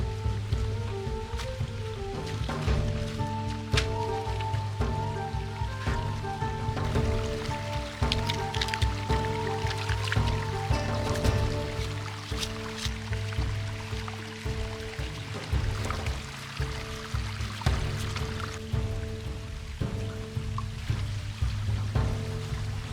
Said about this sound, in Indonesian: Jadi Bang J langsung saja membawa semua rebungnya ke aliran sungai untuk segera dibersihkan.